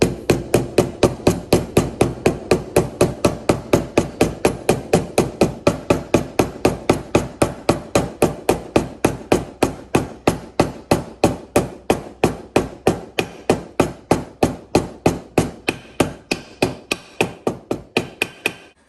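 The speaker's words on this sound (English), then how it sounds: "just taking my hammer, and I'm just going to lightly tap around the perimeter" Steady, rapid series of light hammer taps around the edge of a seal on a Kawasaki FR730V engine, dozens of crisp metallic knocks in an even rhythm, close and fairly loud with no talking.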